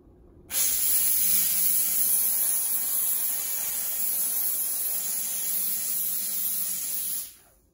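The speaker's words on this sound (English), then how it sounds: "And all you have to do is just press down the trigger, then the steam will shoot out." A BISSELL Steam Shot handheld steam cleaner blasts steam from its nozzle at the press of the trigger, a loud, steady, close hiss that starts abruptly, holds for about seven seconds and cuts off.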